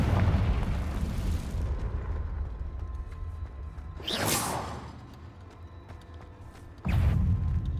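Hogwarts Legacy's explosive Confringo spell: a loud whooshing fireball streaks in and bursts midway, with another heavy blast near the end over a low, rumbling game backdrop.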